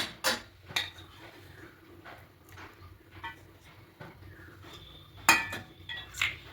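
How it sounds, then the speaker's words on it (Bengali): Eggs with salt, pepper and chopped onion being beaten for an omelette, irregular clinks and taps of utensil against a bowl, fairly quiet with louder knocks near the end. "খুব ভালো করে ফেটিয়ে নেব।"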